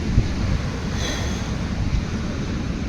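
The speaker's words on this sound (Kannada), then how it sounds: "ಇಲ್ಲಿ ಸ್ವಲ್ಪ ತಣ್ಣ ಗಾಳಿ ಬೀಸ್ತೈತೆ" Cool wind blowing at RK Beach in Visakhapatnam, a steady low rumble of wind buffeting the microphone with a faint wash of surf, continuous for a few seconds.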